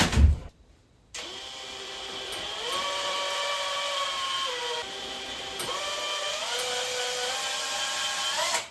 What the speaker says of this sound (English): I'm also just using an electric screwdriver to do it.